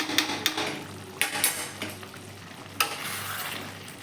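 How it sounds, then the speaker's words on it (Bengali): Prawn curry being stirred in a pan after ghee and garam masala go in, with a soft frying sizzle underneath and a few sharp spoon scrapes and clinks against the pan, close and moderately loud with no talking. "দিয়ে আবার নেড়ে ছেড়ে একটু মিশিয়ে নেব"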